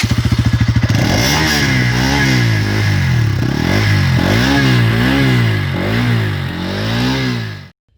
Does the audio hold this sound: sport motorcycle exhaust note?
yes